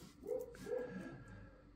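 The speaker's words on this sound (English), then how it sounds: "I can't concentrate with that bloody dog barking" A dog barks a few times in quick succession, faint and somewhat distant, with a short whimpering yip among the barks and no talk over it.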